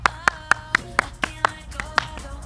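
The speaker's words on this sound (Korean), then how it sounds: "박수." One person clapping steadily in a slow, even rhythm, about ten crisp close hand claps spaced a quarter second apart, loud and dry with a faint room echo between strikes during a football dribbling lesson.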